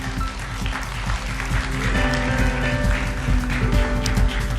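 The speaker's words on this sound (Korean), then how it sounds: "Let's welcome with a big hand." Applause from a forum audience at a green building conference, steady and fairly loud, mixed with a sustained tonal hum or music beneath the clapping.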